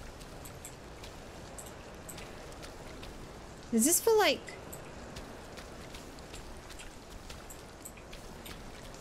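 Steady, soft rain falls in the video game We Happy Few, a continuous hiss that runs the whole time, with a brief spoken phrase over it partway through.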